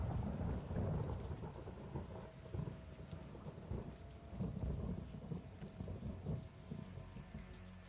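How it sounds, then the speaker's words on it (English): Heavy rain pours in a Call of Duty: Modern Warfare II campaign scene, a dense steady hiss of rain with low rumbling thunder rolling underneath, fairly faint and continuous with no voices. "It's raining fucking hard."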